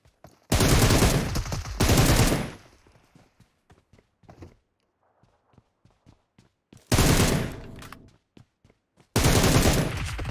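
PUBG Mobile match gunfire: long, dense bursts of automatic fire alternate with scattered single shots and quieter gaps, loud and close, with no talk over it.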